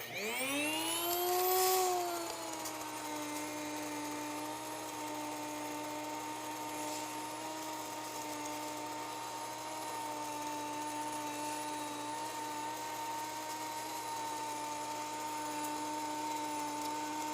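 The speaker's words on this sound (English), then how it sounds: "So let's get started here with milling our flour." An electric grain mill with stainless steel milling heads grinds wheat into fine flour, spinning up quickly then holding a loud, steady high whine and drone for the whole stretch, nothing else heard.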